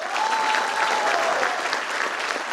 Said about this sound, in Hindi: लेकिन एक बार जोरदार तालियां चाहूंगा नो थैंक्स वेलफेयर के लिए।